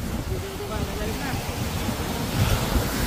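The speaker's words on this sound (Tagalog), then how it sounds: "Eh baka lumakas pa hangin." Wind rushes over open sea beside a small boat, with steady broadband roar and splashing waves building louder toward the end while people's voices come and go in the background.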